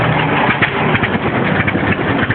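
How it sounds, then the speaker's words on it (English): A 1947 John Deere Model D twin stack diesel tractor engine runs after starting, a loud, close, steady chugging thump that holds an even rhythm throughout. "The twin stack John Deere diesel"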